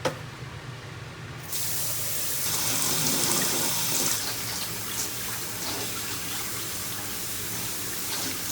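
Duck heads rinsed under a running kitchen tap, a steady close hiss and splash of water that rises after a brief quieter start and continues without pause to the end.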